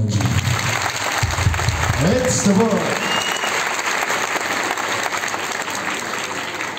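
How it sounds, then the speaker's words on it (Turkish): Steady, dense audience applause fills a singing-contest hall in Erbaa, with a voice speaking briefly over the clapping. "Erbay için kuvvetli bir alkış yapın bence."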